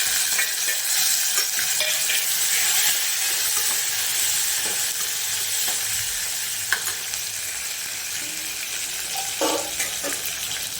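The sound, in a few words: cumin, green chilies, capsicum and tomatoes sizzling in hot oil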